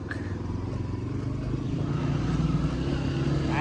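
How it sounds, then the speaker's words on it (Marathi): Vehicles pass by near a local U-25 cricket match at night, a continuous low engine rumble and hum that swells slightly toward the end, with faint background voices. "आता आवाज येणार आहे गाड्यांचा."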